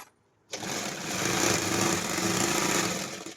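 A sewing machine runs steadily for about three seconds, stitching a pant or palazzo seam, after a brief quiet start, with a loud, even mechanical whir and no voices.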